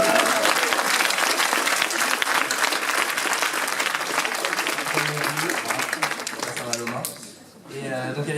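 A crowd at a literature battle event claps loudly and steadily for several seconds, the applause thinning and breaking off near the end, with a voice talking briefly under it.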